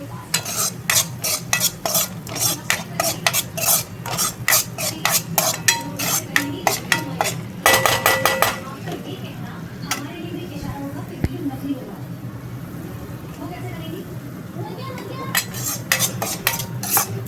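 Dal is stirred in a pan of hot ghee: a spoon scrapes and clinks in quick rhythmic strokes against the pot over a constant sizzle, pausing midway before the stirring resumes, with a person talking over much of it.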